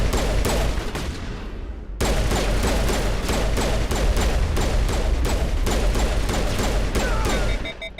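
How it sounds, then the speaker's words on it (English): Rapid, loud pistol gunfire in the sci-fi shooter Mass Effect, a dense continuous fusillade of shots with mechanical clatter, briefly cut off near the second mark, then resuming steadily to the end. "Now, this pistol sucks."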